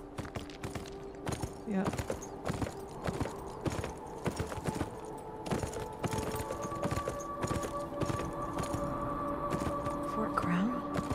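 Horse hooves clip-clop in a steady rhythm as a horse walks in the video game Beyond: Two Souls, close and continuous, with a short spoken word and faint background tones.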